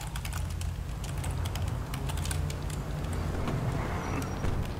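Rapid computer keyboard typing clicks steadily throughout during a GTA Online gaming session, layered over a constant low car engine rumble and game background noise.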